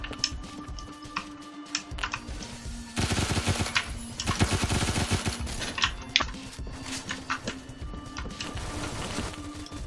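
Automatic gunfire in the Roblox shooter Phantom Forces, rapid bursts of rattling shots that swell into a dense sustained volley mid-way, then trail off into scattered shots, loud and close, with no speech.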